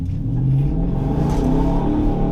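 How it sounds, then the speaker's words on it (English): A 2020 Nissan Titan PRO-4X pickup's V8 exhaust roars as it accelerates, a loud, deep, sustained rumble rising in pitch, close to the listener, with no talking. "That V8 sounds really good."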